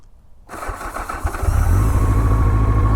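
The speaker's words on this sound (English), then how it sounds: "let's see if she starts." A 1984 Honda CB700 SC Nighthawk S motorcycle engine cranks and fires after a quiet start, then settles into a loud, steady idle close by, with no talk over it.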